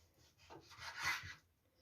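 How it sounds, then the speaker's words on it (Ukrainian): A knife slicing raw chicken breast fillet into small pieces on a board, giving a short close scraping cut that swells and fades over about a second, with no talk. "Я буду різати такими кусочками невеличкими."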